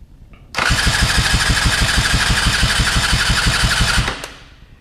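KTM Freeride 250R motorcycle engine cranking over with the throttle held wide open during a compression test, giving a loud, fast, even chugging rhythm for about three and a half seconds before winding down.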